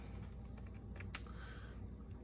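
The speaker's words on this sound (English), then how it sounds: "I'm going to take some pinking shears" Pinking shears snip straight down the middle of a playing card for a Valentine's Day craft, a run of quick, close crisp cuts over a low steady background hum.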